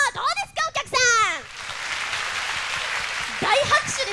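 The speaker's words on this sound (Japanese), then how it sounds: "大拍手ですからね" At a stage show fan event, a voice speaks briefly, then the audience breaks into a steady wash of applause that carries on for a few seconds, with talk returning over it near the end.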